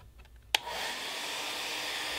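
A blow dryer or heat gun switches on after a sharp click and runs as a steady, loud, broadband whoosh of blown hot air for heating the edges of a Delrin plastic part.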